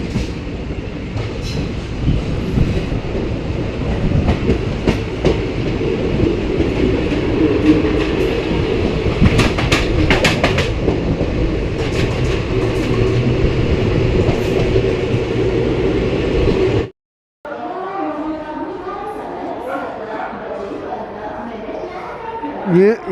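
Vindhyachal Express passenger train rolling on rails near Itarsi, a steady loud rumble with rhythmic wheel clatter for most of the stretch, then a brief cut to quieter station ambience with voices and chatter.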